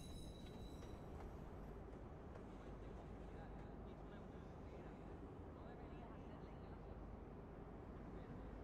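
Train in the video game Watch Dogs, a steady low rumble of rolling rail cars with faint squealing, quiet and continuous, with game dialogue spoken over it.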